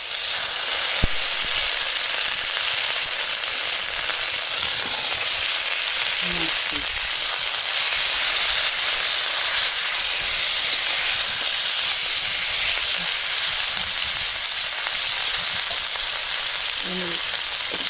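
Ginger and cumin fry in a hot pan with a steady, close, hissing sizzle that holds evenly throughout, faint clinks now and then.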